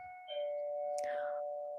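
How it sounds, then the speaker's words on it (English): An apartment doorbell rings out with a sustained electronic tone that shifts pitch partway through, clear and moderately loud in a quiet room. "people have been ringing my doorbell nonstop"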